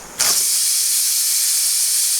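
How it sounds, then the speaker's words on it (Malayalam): A pressure cooker whistle bursts on suddenly while broken wheat upma cooks, then holds a loud, steady, close steam hiss with nothing else audible. "2 വിസിൽ വന്നതിന് ശേഷം ഞാൻ കുക്കർ ഓഫ് ചെയ്തിട്ടു."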